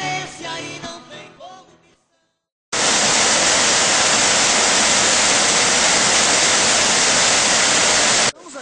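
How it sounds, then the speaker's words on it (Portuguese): A waterfall in Caxambu roars as a loud, steady broadband rush of falling water, close and continuous for several seconds after a stretch of speech and a short pause. "Estamos aqui em frente a uma cachoeira."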